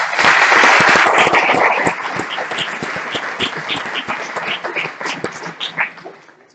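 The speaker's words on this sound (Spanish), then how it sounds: "Le damos un aplauso, por favor." Audience applause at an environmental heritage conference, loud and dense at first, then thinning into looser, scattered claps that trail off toward the end.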